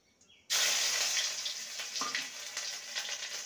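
Ginger paste goes into hot oil that already holds whole cumin seeds, starting with an abrupt loud hiss that settles into a steady, dense sizzle up close, with no talking.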